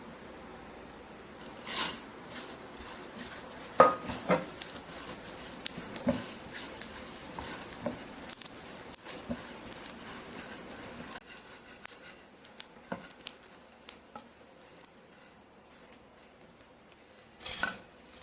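Cumin and coriander seeds dry roasting in a pan: continuous light scraping and stirring with scattered ticks and clinks of seeds and spatula against metal, a few sharper knocks at the start and end.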